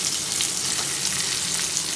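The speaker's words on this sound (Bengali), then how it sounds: "চলো এবার এইটাকে একটু হালকা ভাজবো, বেশিটা কিন্তু ভাজবো না," Chopped onions and green chillies fry lightly in hot oil for a small-fish chachori, a loud, steady sizzle with fine crackle that runs unbroken throughout.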